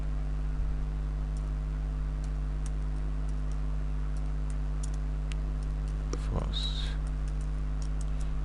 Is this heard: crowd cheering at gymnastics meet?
no